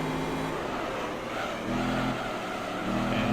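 A race car running laps at Laguna Seca in Gran Turismo 3, its engine droning steadily and rising in pitch with a few rev surges, loud and close with no talk over it.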